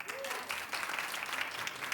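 A studio audience clapping in a steady, dense round of applause, moderately loud and sustained throughout, with a voice briefly audible under it.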